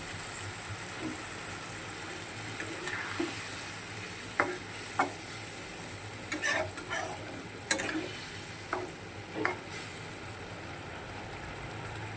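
Fish sizzling and frying in a hot pan as water is added, a steady close hiss broken by scattered sharp crackles and pops with occasional stirring scrapes.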